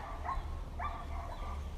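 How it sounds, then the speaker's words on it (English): Police dogs barking at a distance during a martial-law siren scenario, a few short muffled barks over a steady low rumble, faint and indistinct rather than close. "That's police dogs."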